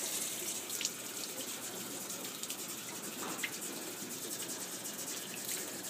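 Water runs steadily from a tap while a bantam Polish chicken is washed for a show, a continuous close hiss and splash with small drips standing out.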